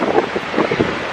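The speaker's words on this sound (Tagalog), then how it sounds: "masyadong windy, masyadong mahangin" Strong wind blows across Musuan Peak, a loud, gusty roar buffeting the microphone throughout a very short moment.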